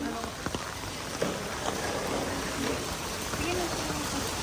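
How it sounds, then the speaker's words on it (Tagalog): Steady rain pours during the rainy season in Manila, a dense continuous hiss with scattered drip and splash accents, broken by faint background voices. "Dito po sa Manila, umuulan po."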